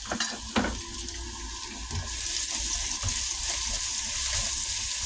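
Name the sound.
bitter gourd (ampalaya) frying with garlic in a pan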